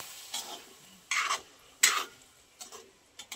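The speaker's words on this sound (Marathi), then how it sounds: "आणि पुन्हा एकदा हलवून घेऊया." A spoon stirs stuffed brinjal curry in a pan after a little water is added, giving several separate scraping strokes with soft sizzling between them, close and fairly quiet.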